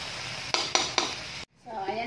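Pork for igado sautéing in a pan, with a steady sizzle broken by three sharp stirring scrapes, then a brief cut to a quieter, bubbling simmer.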